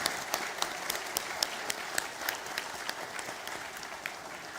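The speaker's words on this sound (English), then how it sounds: "Can we have a huge round of applause for all our esteemed guests here?" Audience at a talk show applauds the panel of guests, a steady mid-level patter of many hands clapping with a few sharper claps standing out, continuing evenly throughout.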